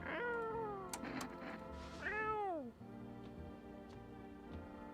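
A video game cat meows twice, the second call a long, drawn-out rising-then-falling wail, heard close and clear, with faint speech in the background.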